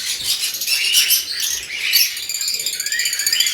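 Canaries at a Philippine bird farm chirp and twitter continuously, a dense high-pitched chorus of overlapping tweets with wing flutters, fairly close and steady throughout.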